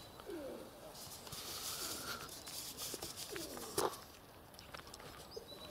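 Pigeons coo softly outdoors in a few short, low warbling calls spaced across the stretch, faint against quiet ambient noise with light scattered clicks and rustles.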